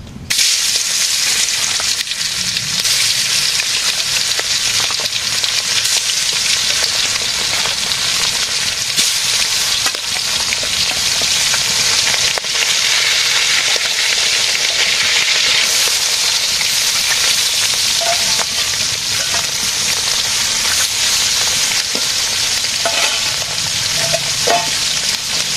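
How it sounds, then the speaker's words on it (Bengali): Silver carp fish frying in a pan in a village kitchen, a loud, continuous crackling sizzle with hissing oil and occasional stirring, steady throughout with no talking. "এখন মাছ ভেজে নেই।"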